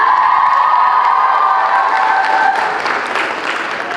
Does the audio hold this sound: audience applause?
yes